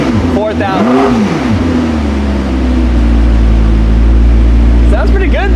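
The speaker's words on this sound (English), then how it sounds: "Sounds pretty good though, not bad for a stock exhaust." A McLaren engine with its stock exhaust blips up and drops back near the start, then settles into a loud, steady idle drone close to the mic, with a short second rev near the end.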